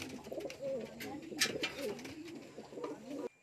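A racing pigeon back from a race coos repeatedly at close range, soft rhythmic calls over faint background bird sounds and light ambient noise, with no speech.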